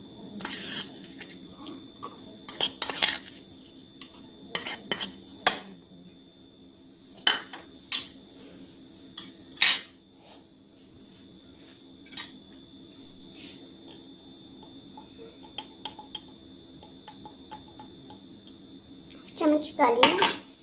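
A metal spoon clinks against a glass or bowl while sugar is stirred into pineapple juice, giving scattered sharp taps and scrapes at close range over a quiet room, with a busier burst of clinking near the end.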